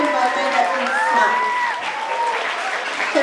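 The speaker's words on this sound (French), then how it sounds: "could we give him a big hand of applause?" A festival audience applauds a sheep shearer, steady dense clapping heard close and loud throughout the short stretch, with no voices over it.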